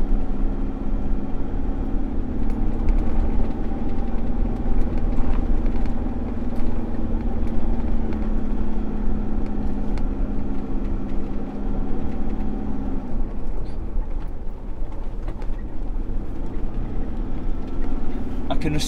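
A car climbs a winding mountain road to Samoeng in Chiang Mai, its engine a steady, loud drone close to the listener throughout, with the pitch shifting slightly partway through.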